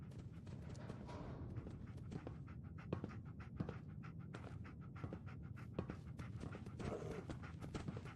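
Dogmeat, the dog companion in Fallout 4, pants rapidly and steadily at close range, with a faint patter of footsteps mixed in and no speech.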